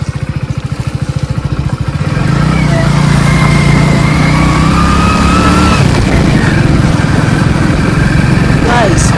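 A motorcycle engine while riding, loud and close, with a rapid idling putter that rises into a sustained revving drone as the bike moves off, with voices talking over it.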